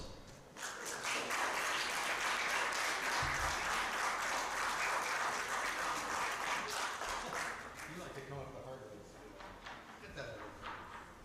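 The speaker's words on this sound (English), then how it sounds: "I would like you to give a round of applause for Senor Ajablosa." Applause rises from people at a fellowship gathering, with sustained clapping that swells quickly, holds for several seconds and then thins out as a voice begins speaking near the end.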